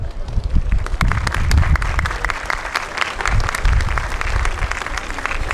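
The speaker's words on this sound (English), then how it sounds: "That's at least as much applause as you deserve." Sustained applause from a large audience at a London Vaisakhi celebration in 2016, dense clapping holding steady and loud throughout with a faint crowd murmur beneath.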